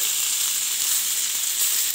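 Pieces of fish frying in a pan, a steady bright hissing sizzle heard close up and fairly loud, with no talking.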